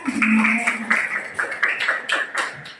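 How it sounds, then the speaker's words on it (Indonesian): A classroom full of students claps, a dense patter of many hands slapping together for a few seconds, with a voice audible near the start. "Tepuk tangan teman-teman"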